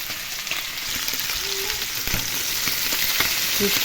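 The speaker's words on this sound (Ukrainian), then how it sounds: "Хай підсмажиться сама потерелина" Steady oily sizzling of grated vegetables frying in a pan, with occasional soft stirring scrapes; close and continuous, no voices.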